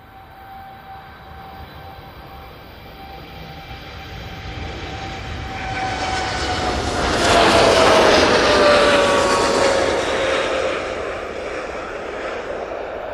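A Boeing 787 Dreamliner bound for Tenerife takes off from Manchester Airport, its jet roar swelling from a distant whine to a loud peak and then easing, with a steady high engine tone throughout.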